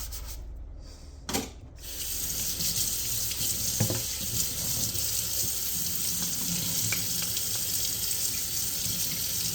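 A spatula is washed under a running kitchen tap: a steady stream of water splashing and rubbing continues throughout after a brief pause near the start, close and fairly quiet, with no talking.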